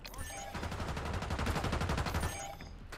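Rapid video game gunfire, a fast burst of closely spaced shots like an automatic weapon, loud and near, lasting about two seconds before cutting off, with faint speech underneath.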